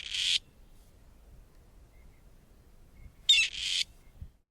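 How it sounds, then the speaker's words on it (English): A gray partridge gives short, harsh, scratchy calls: one brief call, then a pause, then a pair of calls close together, all faint against a quiet background. "the specific type of partridge might be the gray partridge"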